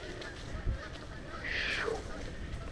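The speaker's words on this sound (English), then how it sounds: "Geese in the background." Geese honk in the background of an autumn bike ride near Collins Bay, a short honking call rising faintly over steady wind and road noise.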